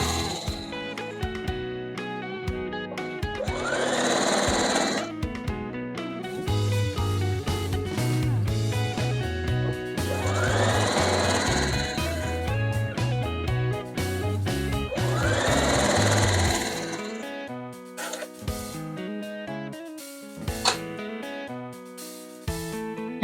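A sewing machine stitches a quilt block in several steady runs of rapid humming, broken by short pauses.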